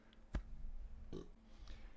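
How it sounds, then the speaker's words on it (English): A person burps softly: a short, low, guttural burst comes first, then a longer rumbling one a moment later, over a faint steady hum. "Sorry, I had to burp."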